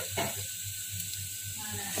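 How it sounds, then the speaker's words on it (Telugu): Garlic sizzles in hot oil in a home kitchen, cooked slightly past light brown, giving a continuous close frying hiss with a low steady hum beneath. "కొద్దిగా మాడనివ్వాలి మాడితేనే టేస్ట్ ఉంటుంది లైట్ బ్రౌన్ కాకుండా ఇంకా కొద్దిగా ఎక్కువగా మాడాలి సో వెల్లుల్లి ఉన్న ఫ్లేవర్డ్ అంతా కూడా బయటికి రావాలి ఆయిల్ నుంచి"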